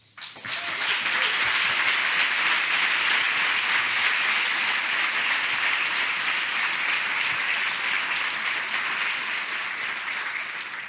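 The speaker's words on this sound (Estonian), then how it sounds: "Nii et see väärib, ma arvan, eraldi aplausi." An audience at an investment talk breaks into sustained applause, a dense, even wash of many hands clapping that holds steady for around ten seconds and slowly tapers.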